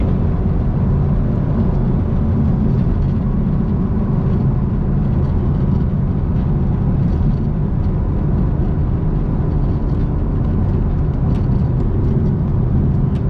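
A Camaro ZL1 racing a 600 HP Ford Cobra produces a continuous, loud roar of engine and road noise, heard steadily from close by without any breaks.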